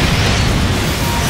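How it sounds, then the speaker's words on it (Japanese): A nuclear blast in the arcade fighting game Gundam Extreme Vs. hits as a loud, dense roar of rumbling noise that holds at full strength without a break. "核爆発。"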